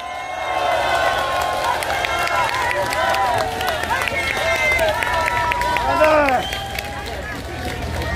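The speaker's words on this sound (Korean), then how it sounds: "많은 큰 박수 다시 한번 부탁드리겠습니다" Crowd applause and cheering at an outdoor Gwanghwamun counter-rally by a university coalition, a steady dense wash of clapping with crowd noise and scattered voices over the full length.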